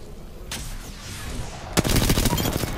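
Rapid bursts of gunfire in Apex Legends, a brief shot early, then a loud, fast string of close automatic shots filling the last second.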